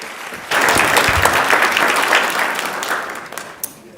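An audience claps and applauds at a state Senate floor session, with a dense, loud burst of clapping that swells after a short pause and then tapers off.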